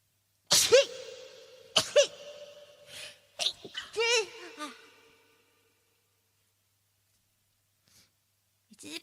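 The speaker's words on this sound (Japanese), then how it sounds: "くしゃみ出そう。 またくしゃみ出そう。" A young female streamer with pollen allergies sneezes sharply near the start, then again about a second later, with breathy vocal sounds and sighs after, and the clip then falls quiet.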